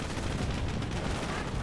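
An MG42 machine gun fires in Company of Heroes during a Wehrmacht battle as a rapid, dense burst of gunfire mixed into a busy, rumbling combat soundscape, fairly quiet overall.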